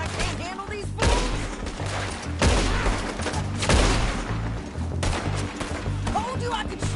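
Continuous heavy gunfire from a shootout in a PS4 video game, several guns firing in overlapping bursts with louder blasts around each second, dense and loud throughout with game music under it.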